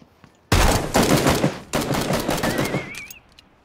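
Loud, close bursts from a .45 pistol in a video game: two dense volleys of shots in quick succession, the second trailing off into a brief whistling tone.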